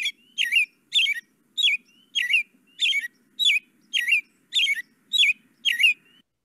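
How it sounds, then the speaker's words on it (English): An American robin singing close and clear, a regular series of about ten bright whistled caroling phrases spaced evenly with short gaps between them, over near-silent background. "maybe that's one of the reasons why American robins are so popular. It's just that song is just so cheery."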